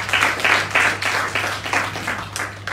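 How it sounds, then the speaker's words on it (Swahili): An audience applauds to welcome a speaker at a mindset-transformation opening session: steady, fairly loud clapping in rhythmic swells, with a constant low electrical hum underneath. "Na naomba tumpige makofi."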